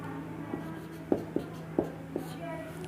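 Pen or chalk writing out a maths problem, several short, soft scratchy strokes in an uneven rhythm over a steady background hum, close by.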